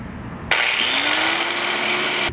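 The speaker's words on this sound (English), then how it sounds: "Oh yeah, it's cutting the bolt." Power tool biting into a metal bolt with sparks flying, a loud, sustained abrasive grinding whine starting abruptly and holding steady close up.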